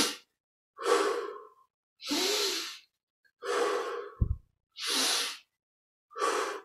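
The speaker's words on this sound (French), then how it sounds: "Juste venir dans le rythme de ces respirations." Slow, rhythmic breathing during a meditation exercise, six long even breaths in and out with short pauses between them, close and clear with no talk.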